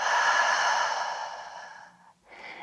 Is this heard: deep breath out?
yes